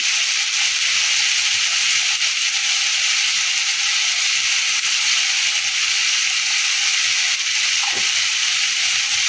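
Khichuri of rice and dal being stirred in a pan with turmeric and salt, a loud, steady sizzling hiss throughout with a faint scrape near the end.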